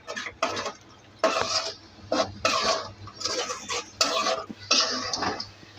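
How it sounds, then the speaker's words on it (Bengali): Snake gourd and egg fry being stirred in a pan, scraping and clattering in several short bursts with brief pauses, close and moderately loud, with a low steady hum underneath. "এখন নাড়বো।"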